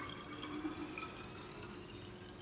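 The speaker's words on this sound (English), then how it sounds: "it's very easy to pour it right here into the juice jar." Juice poured from a collector spout into a juice jar makes a steady, soft liquid trickle with faint dripping, continuous and close for the whole stretch.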